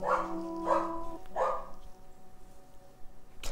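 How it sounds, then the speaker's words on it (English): Several dogs bark in three quick bursts, then go quiet, followed by a sharp knock at the end, with no talking over them. "Oh, my dogs are barking."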